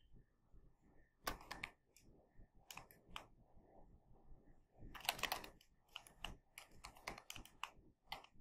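Typing on a computer keyboard at a desk while working in chip layout software, with quiet clusters of key clicks in irregular bursts and short pauses between them.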